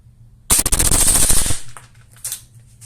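A Tokyo Marui ISO556 airsoft rifle fires a loud, rapid full-auto burst of BBs lasting about a second, followed by a few fainter mechanical clicks and handling noises.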